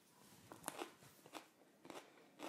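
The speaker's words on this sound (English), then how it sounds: "Really thick walls, really crunchy." Crisp bites into a thick-walled, crunchy Howlapeño F2 pepper, several sharp crunches spaced across a couple of seconds followed by close chewing, quiet and near with no talking.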